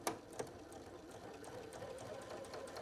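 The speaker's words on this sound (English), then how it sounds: "I'm just gonna actually line up the edge of my presser foot with where that stitch already is and just make a second top stitch" A sewing machine running a second top stitch along a tote bag edge, a steady, fast mechanical whir with a couple of sharp clicks at the start, close and continuous without voices.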